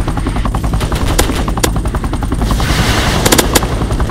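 Rapid machine-gun fire rattles continuously over the steady thrum of a helicopter rotor in a chaotic video game base battle, loud and close, with a few sharper bursts near the end.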